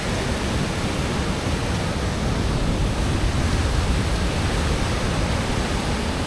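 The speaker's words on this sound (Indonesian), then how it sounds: "ini namanya pemecah ombak" Waves break against a seaside breakwater in a steady, dense roar of surf with no pause or distinct individual crash.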